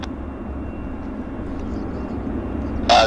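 An airplane taxiing out of the de-icing bay at Vancouver's YVR airport in November makes a steady, distant low engine rumble, with a brief louder burst of noise at the very end.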